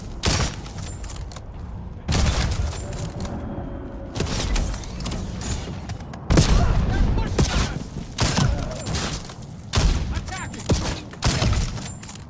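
Gunfire in a sci-fi shooter video game, loud bursts of shots in separate volleys separated by brief pauses, up close and dominating the mix.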